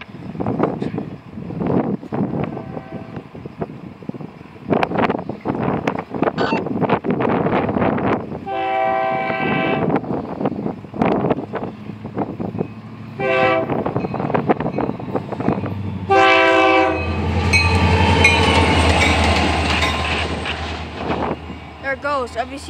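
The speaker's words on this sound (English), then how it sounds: "Oh, I think this is FEC work train." An FEC work train passes a road crossing on Malabar Road, sounding several loud, sustained horn blasts over the rolling rumble of rail cars, while a person talks nearby.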